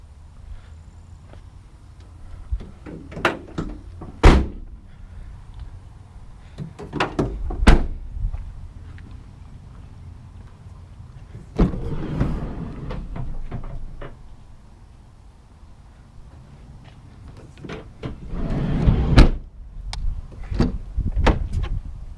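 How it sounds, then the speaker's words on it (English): The rear cargo doors of a 2016 Ford Transit Connect XL delivery van unlatch and swing open wide. Sharp clicks and thuds ring out one after another, close and loud, with no talking. "these doors open beyond a 90-degree angle. Push the button and they open"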